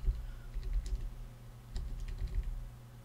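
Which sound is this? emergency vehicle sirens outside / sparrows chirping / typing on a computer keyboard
typing on a computer keyboard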